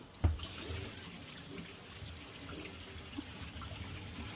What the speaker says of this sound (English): I'm gonna fill it up with water right now.